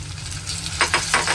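Onion, garlic and green chilli fry in a pan with a steady low sizzle, while a spatula stirs them in several quick scraping strokes near the end.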